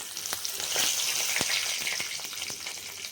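Urad dal and curry leaves fry in hot oil for a Chettinad-style cabbage and potato masala, a close, steady crackling sizzle with sharp pops scattered throughout and no voices.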